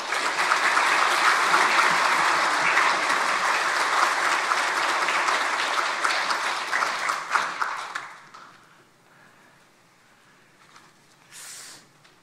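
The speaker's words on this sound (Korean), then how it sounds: "큰 박수로 환영해 주시기 바랍니다." A church congregation gives loud, sustained applause to welcome the guest pastor to the pulpit; dense clapping fills about eight seconds, then trails off into a quiet room with a brief faint rustle near the end.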